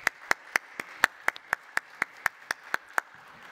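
Steady, evenly spaced claps, about four a second, ring out alone in a quiet conference hall during a panel discussion on health coverage, like a single person starting the applause for the panelists.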